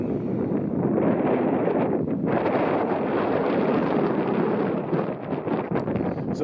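Steady wind gusting at a mountain lake, Lower Rock Island Lake, roaring broadband across the microphone, loud and continuous with a brief lull near the middle.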